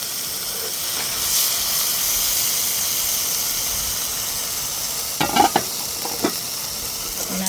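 Beef and mushrooms sizzle in a hot pan, a loud steady hiss and steamy crackle, followed near the end by a few sharp clanks and scrapes of a utensil, with no talk.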